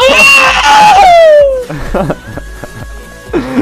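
A man yells loudly and drawn out while playing Saints Row 3, his shout sliding down in pitch before giving way to quieter laughing and chatter against a steady game hum.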